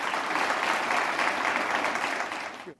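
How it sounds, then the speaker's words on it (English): Sustained applause from a talk show audience, steady and dense clapping throughout, fading out abruptly at the end. "Just give applause to our chief, Acevado."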